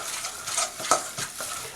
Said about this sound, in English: Just going to take my spoon, just mix this up really well.